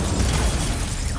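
An Incendio fire spell cast in Hogwarts Legacy, a dense, loud burst of roaring, crackling flame that fills the moment and stays strong throughout, heard up close.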